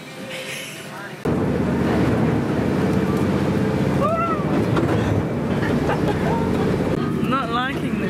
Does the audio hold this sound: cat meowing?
no